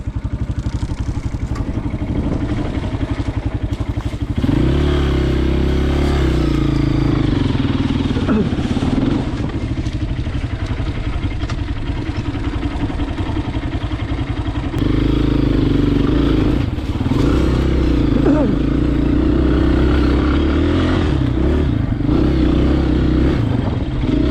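A cheap electric trials bike is ridden outdoors, its motor and chassis giving a close, continuous low whirring rumble with rattles and scrapes that rises in surges, while people talk over it.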